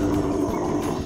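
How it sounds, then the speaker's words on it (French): Dinosaur roar at a dinosaur outpost, a deep, continuous growling rumble that is loud and close, heard alone with no talking. "Il ne reste plus qu'à s'habituer au bruit que font les dinosaures, surtout lorsqu'ils rugissent."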